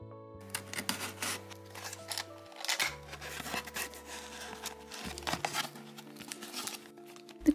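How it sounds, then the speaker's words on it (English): A parcel of handmade doll clothes packed in a plastic bag is opened up close. Quiet, intermittent crinkling and rustling of plastic comes in short bursts, with no speech. "So this is the parcel that came in, and let's open it up."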